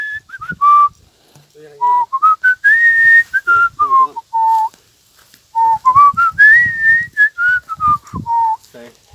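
A person whistles outdoors to lure a lizard in rural Thailand, making loud, near, clear whistled notes that rise and fall in repeated warbling phrases with short pauses between them.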